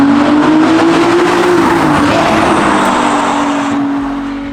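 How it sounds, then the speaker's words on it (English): A Ferrari 296 fitted with a Novitec exhaust revs hard and loud, a sustained snarling engine note that holds steady for several seconds before easing slightly at the end. "I'd like to play you the sound of the Novitec exhaust on a 296."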